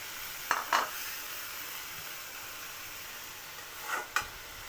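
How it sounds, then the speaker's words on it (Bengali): Baila fish curry (bhuna) simmers and sizzles in a pan with a steady soft hiss, punctuated by a few brief scraping stirs of a spoon near the start and end. "মাছটা নাড়াচাড়া করা যাবে না হালকা করে একটু নেড়ে দিতে হয় তো আমি হালকা করে একটু নেড়ে দিয়েছি"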